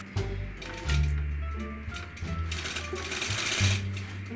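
A longarm quilting machine stitches steadily through a quilt, its close, rapid mechanical hum running continuously with slight swells as the machine travels in a straight line across the design.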